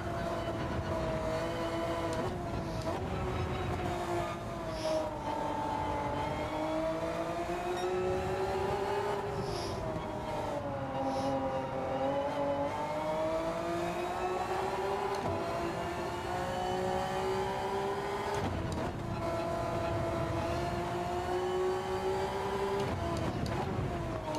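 A race car engine in Gran Turismo 7 at Deep Forest Raceway drones with a strong, steady tone that rises and falls as it accelerates and brakes, with brief gear-shift dips, heard close and continuous.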